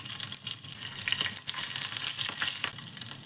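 Cumin seeds and green chillies dropped into hot oil sizzle loudly and steadily for a few seconds, a dense crackling hiss close by, while cooking a spiced yogurt curry.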